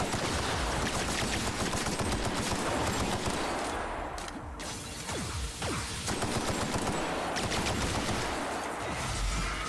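Dense, rapid gunfire from an enemy in The Outer Worlds rattles on almost without pause, loud and sustained bursts with a brief dip midway, and no talk.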